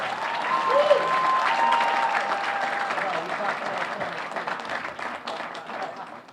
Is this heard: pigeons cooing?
no